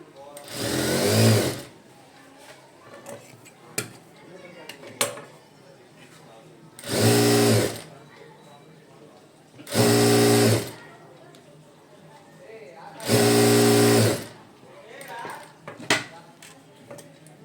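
A sewing machine runs in four loud bursts of a second or two each, stitching a half-inch seam along the bottom of a puff sleeve lining, with quiet pauses and soft fabric handling between runs.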